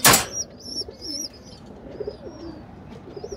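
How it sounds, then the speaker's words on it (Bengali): A sick female pigeon coos close by in soft repeated warbling phrases, after a brief loud rustle at the very start. "আমার একটি মাদি কবুতর দেখাই"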